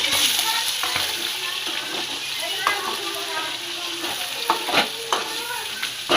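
Chicken liver sizzles steadily in a hot pan, with loud continuous frying hiss and occasional scraping stirs, close and alone.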